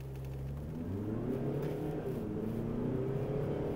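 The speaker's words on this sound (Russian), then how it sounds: "Очень динамичный разгон получается." A Volkswagen Arteon Shooting Brake R-Line 4Motion accelerating hard, the engine note climbing steadily through a gear change, heard from inside the car with no talk.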